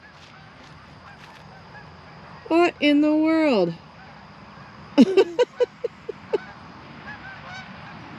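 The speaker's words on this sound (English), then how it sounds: "Here come the geese." Geese honk nearby: a couple of long drawn-out calls, then a quick series of short honks tapering off, with a person speaking briefly among them.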